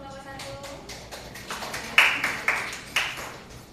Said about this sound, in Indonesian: Boleh beri tepuk tangan untuk kelompok 1